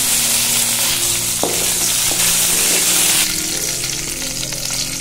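Curry leaves and urad dal frying in hot oil for Tamil mint rice, a steady loud sizzle and crackle throughout, with a brief stir or clatter near the start and the hiss brightening toward the end.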